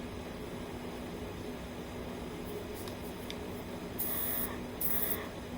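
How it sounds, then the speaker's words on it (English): Pelcas rechargeable 32 psi airbrush compressor running alone, a steady quiet hum with a faint constant tone, joined near the end by two short brighter hissing bursts of air. "See, I'm just pressing the button, and it turns on the compressor."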